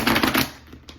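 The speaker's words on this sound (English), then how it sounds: "So I'm just gonna do one shuffle and then pull 3 cards for Gemini." A quick riffle of tarot cards being shuffled, a short papery fluttering burst that trails off into a faint tap.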